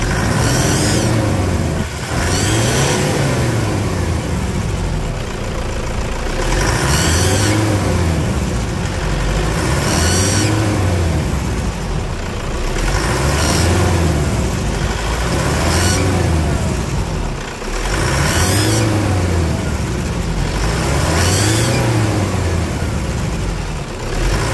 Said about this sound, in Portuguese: Sinistraço esse barulho aí na turbina, não é mesmo?